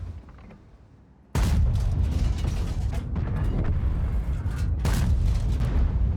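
A Skoda T56 heavy tank in World of Tanks fires its cannon at an enemy Progetto tank: a loud, abrupt booming shot breaks a quieter stretch, followed by sustained rumbling and a second sharp blast, with no talk.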